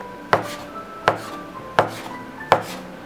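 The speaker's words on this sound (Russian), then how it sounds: "И следующий жгут нарезаем" A knife cuts through a rope of dough for manti in four evenly spaced, crisp chops on a board, close and clear with no talk.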